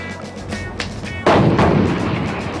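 Tank main gun firing during a gunnery target challenge: one heavy, booming shot lands about midway, its long rumble trailing off, after quieter distant bursts and no talk.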